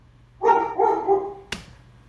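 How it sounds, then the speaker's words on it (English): Molly, a house dog, lets out two quick close barks followed by a sharp sound, loud against a quiet room. "Molly just protecting the house"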